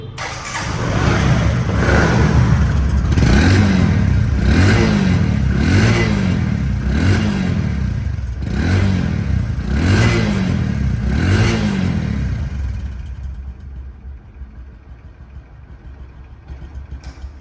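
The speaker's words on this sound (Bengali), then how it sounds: "বাইকটি সাউন্ড কোয়ালিটি শুনুন" A 2022 motorcycle engine in showroom condition runs close by and is revved repeatedly in a steady rhythm of rising throttle blips, then drops back to a quieter idle near the end.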